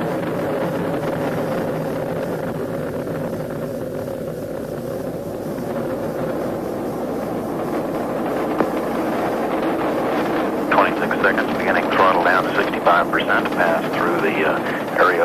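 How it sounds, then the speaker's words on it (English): Space Shuttle Atlantis on its first launch sends up a steady, broad, rumbling roar that builds and grows rougher toward the end, with a voice over it. "Ignition and liftoff. Liftoff of Atlantis."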